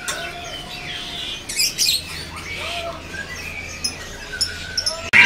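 Bright, warbling magpie-robin calls chirp intermittently over a busy background murmur at a bird kiosk, with a few louder bursts of song.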